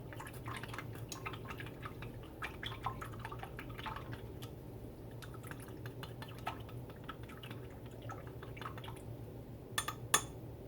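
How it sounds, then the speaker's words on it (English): An old sushi chopstick stirs sodium chloride solution in a container, giving soft, scattered clinks and light liquid swirls over a steady low hum, quiet and close, with a couple of sharper taps near the end. "Give it a good stir, and that sodium chloride should go in the solution."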